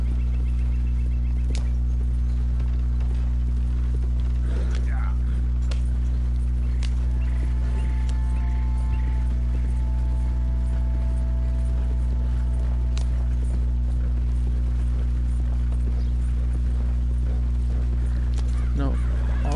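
Horse hooves clip-clop at a stable in the video game Red Dead Redemption 2, a steady, moderate walking rhythm over a constant low droning game ambience, with no talking.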